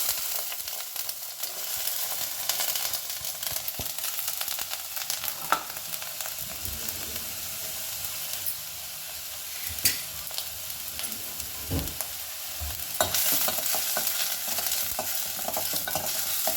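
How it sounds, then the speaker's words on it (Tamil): Chopped onion frying in oil in a pan, a steady close sizzle with occasional scrapes and stirring knocks from a utensil, no voices. "வெங்காயம் கொஞ்சம் வதங்கட்டும்."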